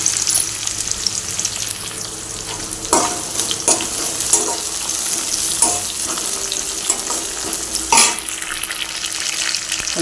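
Green chillies and curry leaves fry in hot oil for sambar, giving a steady close sizzle with a few sharp crackles and stirring clatters scattered through.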